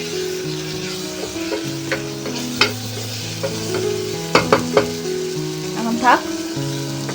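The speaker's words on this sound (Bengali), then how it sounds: "টমেটোটা গলে যাওয়া অবধি একটু ভেজে নেব আর কি" Tomato frying in a pan with turmeric powder, a steady low sizzle under stirring and a few sharp scrapes of the spoon, with background music and a brief spoken remark.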